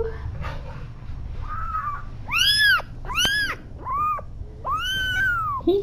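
A kitten gives a string of high, rising and falling mews, several in quick succession, over a low background rumble.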